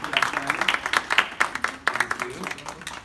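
A short burst of audience applause, many hands clapping in a brisk, uneven patter that fades slightly toward the end.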